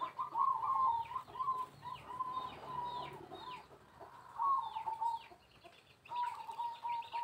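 Perkutut zebra doves coo repeatedly in soft, rhythmic, bubbling phrases while being packed into a cardboard shipping box, fairly faint and close with a little background noise.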